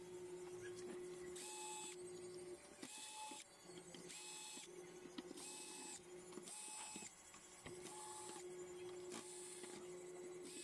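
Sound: grinding machine running

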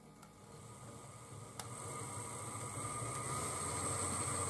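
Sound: Trix Ludmilla model locomotive running in pulling test

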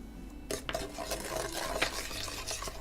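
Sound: stirring bulgogi mixture after adding pear juice

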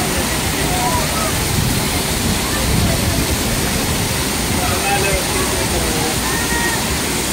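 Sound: rushing water at a water park

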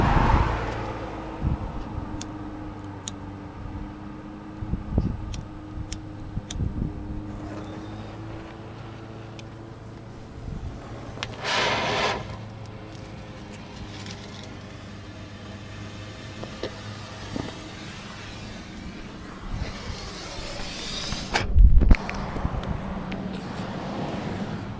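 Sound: cars passing by on a road

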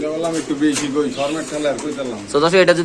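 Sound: pigeons cooing at a Pakistani Giribaz pigeon market

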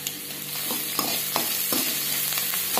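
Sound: onions sautéing in oil with salt, stirred

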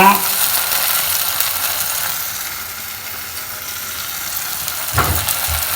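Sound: okra pieces sizzling in frying pan

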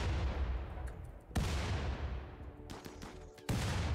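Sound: gunfire and grenades in a RimWorld battle (video game)

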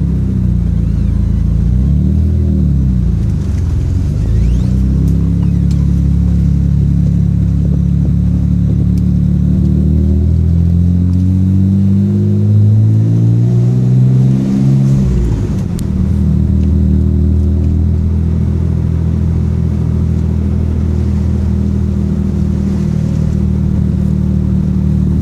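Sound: 1992 Mitsubishi 3000GT VR-4 engine during test drive

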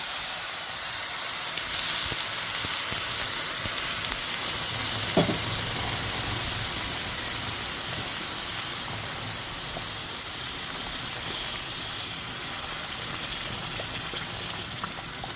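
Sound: boiled water poured into the upma mixture in a hot pan

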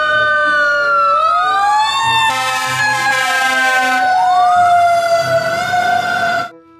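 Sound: toy fire engine siren

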